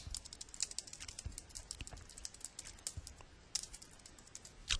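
Keys clatter on a computer keyboard in quick, uneven bursts of soft clicks, close and fairly quiet, with no voice.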